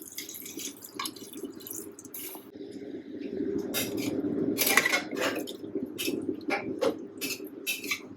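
Hot water poured into a pressure cooker holding mutton for a yogurt curry, a steady splashing pour with scattered clinks and drips building through the middle and continuing to the end, close and moderately loud.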